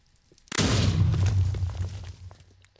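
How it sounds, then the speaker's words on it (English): A single deep explosion in Minecraft bursts suddenly, loud and close, then rumbles and crackles as it decays over about two seconds before fading out. "I've got to try and do the jumping between explosions"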